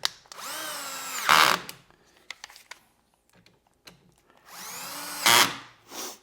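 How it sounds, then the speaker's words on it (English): Cordless drill driving screws tight on a Drillnado drill press accessory: two loud, close whirring bursts with rising pitch, each ending in a clicking bind, separated by quiet handling clicks and a brief final spin. "I will just take my drill here and I'll quickly tighten these things down."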